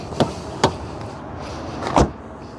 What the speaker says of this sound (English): Very nice, solid closing sound of the door.